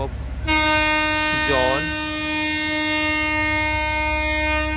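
A nearby unseen train passes by a cemetery, sounding a long sustained horn over rumbling rails while someone speaks briefly.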